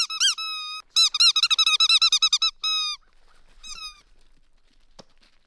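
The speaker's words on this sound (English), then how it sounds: "See? It's like a squeaky duck." A squeaky duck dog toy wearing a little scarf gives a run of sharp, high squeaks in quick rhythmic bursts. A few more squeaks follow after a pause, with no talking.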